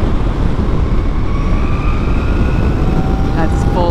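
A Zero FXE 7.2 electric motorcycle at full throttle gives a thin, rising electric whine over heavy, loud wind rumble, climbing in pitch steadily during the ride.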